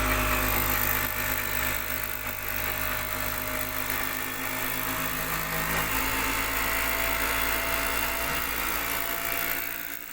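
A 48-volt DC motor with separate field winding runs steadily at about 3000 RPM on a lab bench, giving a continuous, even electric whine with a hum beneath, heard alone throughout.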